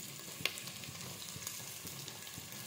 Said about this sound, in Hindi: यहाँ पर ये भून रहा है अच्छी तरीके से